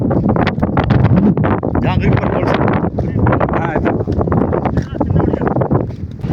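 Strong wind gusts across the open top of Sankagiri hill fort, buffeting the microphone as a continuous rough roar under a man's speech.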